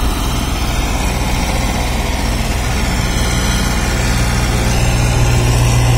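A heavy six- or ten-wheel truck engine running on a dusty road, a loud, close, continuous rumbling drone that holds steady throughout with no voices.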